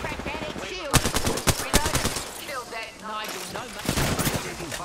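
Rapid automatic gunfire and scattered shots in an Apex Legends battle royale match, loud bursts packed close together, with game effects and a voice speaking between volleys.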